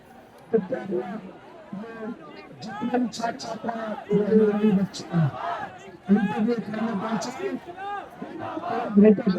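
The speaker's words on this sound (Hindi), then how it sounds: "लगातार भीड़ का आवागमन जारी है।" Protest crowd at Jantar Mantar in Delhi, a dense mass of shouting and chanting voices that swells and surges throughout, close and loud with overlapping calls and chatter.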